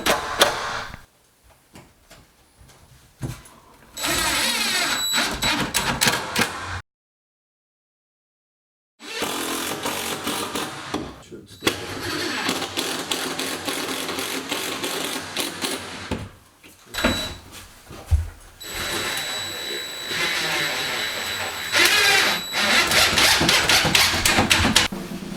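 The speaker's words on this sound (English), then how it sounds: "to fasten the brackets into the shelf, I'm simply using the 3/4 inch screws" A Ryobi power drill drives 3/4 inch screws to fasten brackets into a wall shelf, with long loud buzzing runs broken by pauses and a full silence near the start, close by with no talking.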